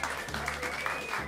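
Warm applause from a jazz club audience at Smalls greeting pianist Bruce Barth, a brief steady patter of clapping with a sustained tone and some voice underneath.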